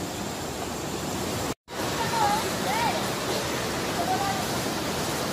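Constant loud rush of the Cavinti Underground River's water outside the cave, steady throughout with a momentary dropout and faint chirps over the flow.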